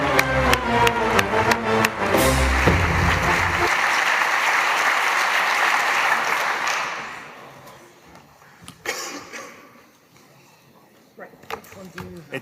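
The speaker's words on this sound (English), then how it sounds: "give these guys a round of applause" Audience applause at a programming conference lightning talk session, a loud dense burst of clapping that swells for several seconds, then thins out and fades to scattered claps and faint talk.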